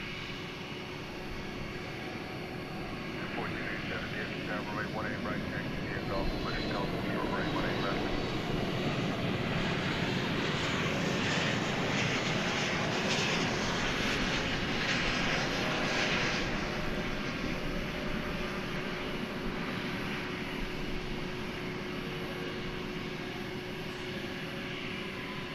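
A jet airliner arriving from Denver touches down at Dallas Fort Worth airport at night, a swelling broadband engine roar that builds through the middle and slowly fades, heard from a distance with a voice talking over it.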